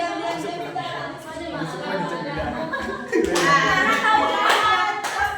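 Classroom of children clapping along in a rhythmic spirit clap, sharp handclaps that grow louder and more crowded toward the end, mixed with children's chatter and a teacher's voice.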